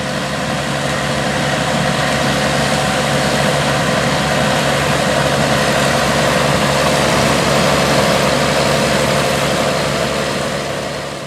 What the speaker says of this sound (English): I hope that you've enjoyed hearing and seeing the Gleaner A86 at work out in the field harvesting corn